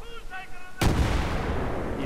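Gunfire in Battlefield 3 erupts abruptly after a brief stretch of quiet game tones, then a loud sustained barrage of shots and explosions fills the rest of the moment.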